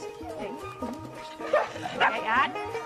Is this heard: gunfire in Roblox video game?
no